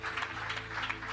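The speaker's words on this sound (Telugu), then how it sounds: "బిగ్గరగా చప్పట్లు కొట్టి దేవుని కనపరుద్దామా?" A worship congregation clapping loudly together, a dense, steady wash of many hands over a faint low musical hum.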